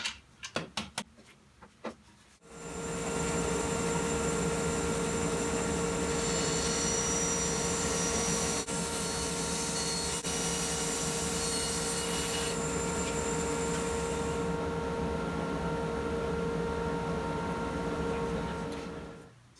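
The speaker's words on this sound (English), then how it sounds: "I'm going to just go ahead and use the bandsaw to rip off this bottom" A bandsaw rips the bottom off a wooden workbench leg board, a loud steady droning whine that holds for many seconds after a few quick clicks and knocks at the start.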